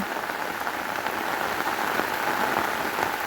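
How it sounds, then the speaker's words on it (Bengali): Steady, dense rain pattering on surfaces, a continuous close hiss with scattered drops, with no voices or other sounds. "ওয়াও অনেক সুন্দর দেখাইতেছে বৃষ্টি পড়তেছে"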